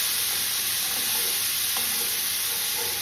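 Leek and celery sauté in a pot with a loud, steady sizzle, close and continuous, with faint stirring scrapes and no talk.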